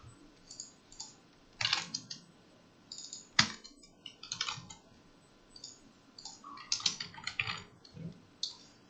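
Someone types code on a computer keyboard in quick, irregular bursts of crisp key clicks, close and fairly quiet, with no talking.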